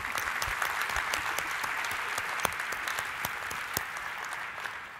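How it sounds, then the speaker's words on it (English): A conference audience claps steadily for several seconds, a dense, full round of applause that tapers slightly at the end. "So we can clap for John."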